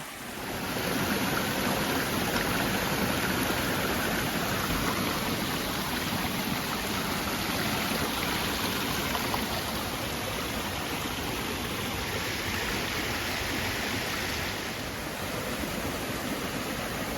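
Steady rushing stream water flows without pause, a broad continuous wash heard up close with no voices, on the Appalachian Trail.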